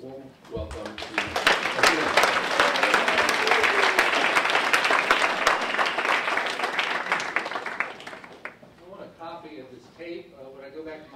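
Warm audience applause welcoming a lecturer at a digital journalism talk, dense steady clapping from a sizeable crowd that swells quickly, holds for several seconds, then fades as a voice begins speaking.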